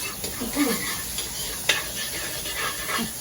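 Onion stir-frying in a hot pan, a soft sizzle with spatula scrapes and a sharp clink of utensil on metal, close, with faint voices in the background.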